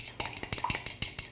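Egg whites mixed with sauce and lemon in a dish, a quick run of light clinking strokes from a utensil against the bowl, close and alone.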